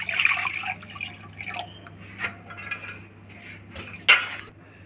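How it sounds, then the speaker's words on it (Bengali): Water goes into a metal wok with splashes and drips, broken by several sharp metallic clinks and clatters of cookware in a quiet kitchen. "কড়াইতে বেশ খানিকটা জল দিয়ে দিচ্ছি।"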